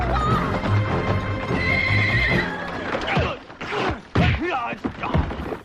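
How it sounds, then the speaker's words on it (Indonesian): In a 1997 action film chase, two runaway horses gallop out of control, with loud neighs and whinnies over rapid pounding hoofbeats and thuds, close and intense. "ia terbawa oleh dua kuda yang lepas kendali yang terus berlari"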